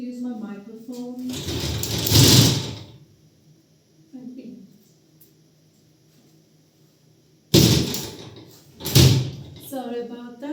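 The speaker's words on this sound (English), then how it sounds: "sorry about the sound of the door. It's an old door and needs a little bit of force." An old door that needs some force is opened and closed indoors, giving two loud bursts of creaking and thudding several seconds apart, with quiet room tone and a person talking in between.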